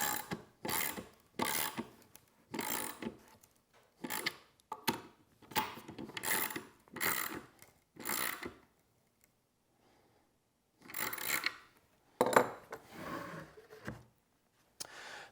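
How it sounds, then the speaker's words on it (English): A socket ratchet tightens lock nuts with washers on a homemade angle grinder sliding cutoff saw: bursts of rapid close clicking in steady strokes, with a pause midway before more ratcheting. "Then I'll tighten everything down with a socket here."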